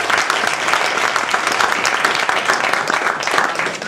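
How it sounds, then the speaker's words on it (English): Steady, full applause from the audience at a Toastmasters Club anniversary evening, a dense wash of many hands clapping continuously for several seconds, with no single voice standing out. "another round of applause for Kim"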